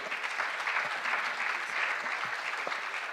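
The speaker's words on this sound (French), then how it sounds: "Bravo, on peut l'applaudir." An audience at a talk on sport and social change gives a dense, sustained round of applause, with many hands clapping evenly and moderately loud across the whole stretch.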